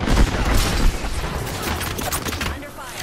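Rapid bursts of gunfire and explosions fill a match of the video game Apex Legends, dense and loud throughout, with players' voices mixed in.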